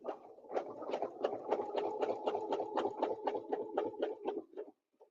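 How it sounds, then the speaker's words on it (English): A sewing machine stitches a quilt guided by a ruler, giving a steady mid-loud run of rapid even needle thumps for about four and a half seconds before stopping abruptly, with no talking. "I'm going to stitch up"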